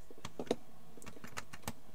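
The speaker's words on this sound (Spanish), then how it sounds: "Mi mouse dando clics en las grabaciones o mi teclado con las teclas" Gaming keyboard keys clicking in a quick, uneven run of sharp taps, close and fairly quiet, with no talking.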